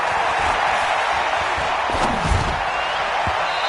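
Stadium crowd noise in a PS4 football game, a steady wash of cheering and whooping with a few thuds and claps, held at a constant level throughout.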